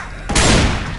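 A single sharp gunshot in the video game Left 4 Dead 2 cracks loudly after a brief quiet moment, its blast ringing out and decaying over the remaining fraction of a second.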